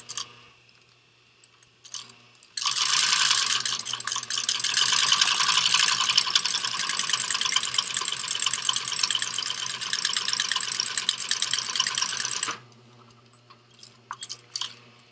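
A stove jack flap is sewn onto a Stout tent with a steady, rapid mechanical whir lasting about ten seconds. It starts and stops abruptly, and faint handling noises come before and after it.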